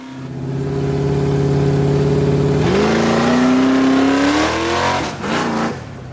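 The Flame Fox car accelerates from just off idle at about 1,500 RPM on a 60-foot airport run, its engine note climbing loudly and steadily before a brief dip and a final surge.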